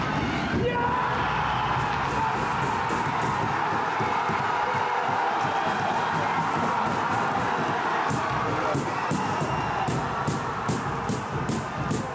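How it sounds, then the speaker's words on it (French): A crowd cheers and applauds for their team at a sports match, steady loud cheering and clapping filling the space throughout, with a voice talking over it. "Applaudissements pour votre équipe"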